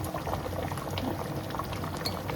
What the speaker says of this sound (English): so it's come to the boil